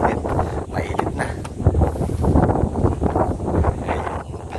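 Gusty wind buffets the microphone in uneven rumbling bursts, loud and close, with faint indistinct voices underneath.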